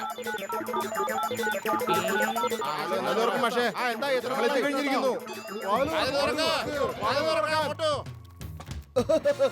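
A telephone rings in a Motu Patlu cartoon, its shrill repeating tone mixed with lively animated character voices talking over it.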